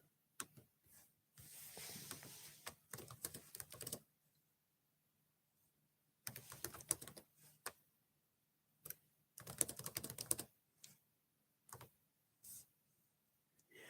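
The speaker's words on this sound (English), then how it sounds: "I go to type, and I'm in the wrong place to type." Computer keyboard typing in short scattered bursts of quick clicks separated by silent gaps, close and fairly quiet.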